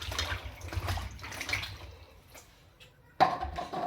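Close sloshing and splashing of water as okra is rinsed by hand, with a brief louder splash near the end.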